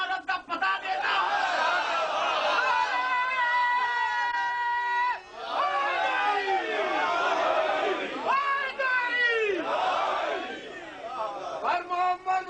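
A crowd at a Muharram majlis chants religious slogans in loud, rhythmic unison, voices rising and falling in repeated waves with brief gaps between bursts.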